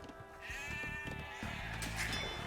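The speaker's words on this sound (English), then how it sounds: "You've found some sheep." Sheep bleat in the video game Age of Empires II, a few short nasal calls over a busy bed of game ambience and background music.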